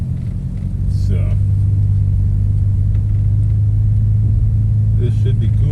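Car engine with a turbo humming steadily while driving, a loud low rumble and drone filling the cabin throughout, with faint brief chirps above it and no clear speech.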